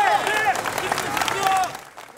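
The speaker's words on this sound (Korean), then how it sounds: "한미 장병들의 환호가 쏟아집니다" South Korean and US sailors lined up on the hangar deck of the nuclear-powered aircraft carrier USS Theodore Roosevelt at Busan naval base break into cheers and applause, a brief burst of clapping and shouting that trails off quickly.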